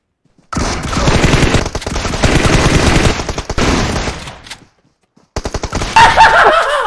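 Video game gunfire in rapid, rattling machine-gun bursts, loud and close, breaking off into a brief silence before a few more shots resume near the end.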